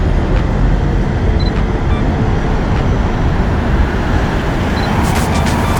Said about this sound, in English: So we've got buses coming in both directions,